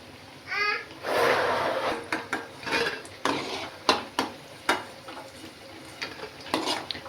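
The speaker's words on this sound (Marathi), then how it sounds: "तर बघा इथे असं तळून घ्यायचं, असं कलर चेंज होईपर्यंत." Colocasia leaf rolls (aluwadi) fry in hot oil, a soft sizzle broken by sharp clinks and scrapes of a utensil stirring in the pan, repeated in short bursts close by.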